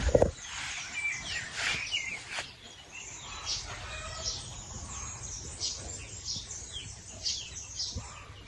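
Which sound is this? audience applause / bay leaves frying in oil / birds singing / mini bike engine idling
birds singing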